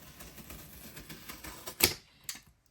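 Scissors snipping through card stock while making a jumbo Christmas card, a series of faint crisp cuts ending in one sharper snip, close and quiet with no talking.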